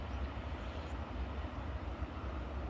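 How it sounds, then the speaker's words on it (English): A Boeing 787 taxiing at Edinburgh Airport gives a steady, distant jet engine rumble, broad and continuous with low-end roar and no voices. "We've got a 787 just taxiing behind it."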